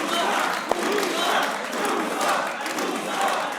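Audience at a PSL cricket show cheering and shouting in a dense, continuous crowd roar, loud and close, with a single sharp clap-like hit early on.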